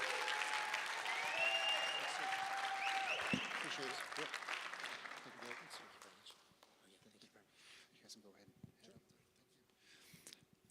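Applause from an audience at a political event where Congress candidates appear, loud and dense for about six seconds with scattered whistles and cheers, then thinning to lighter scattered clapping under faint chatter.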